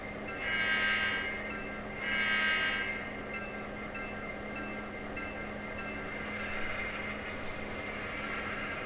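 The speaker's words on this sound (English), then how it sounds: "Okay, so now we have our approaching train." An approaching train runs along a railroad line toward a siding, a continuous rumbling roll with two swelling horn-like blasts early on, close by and steady throughout.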